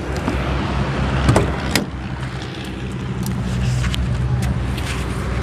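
A person gets into a Suzuki Cultus car, with the door clunking and thudding shut nearby and some shuffling movement against a steady engine-like hum.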